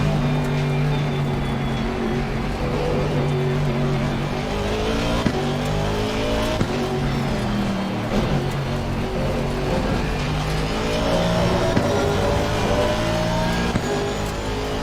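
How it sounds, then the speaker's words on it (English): An Aston Martin engine in a racing video game drones loudly and steadily, with repeated gear changes breaking the rising tone as it climbs through the gears, continuous with no voices. "I like the way this Aston Martin sounds when you change gears."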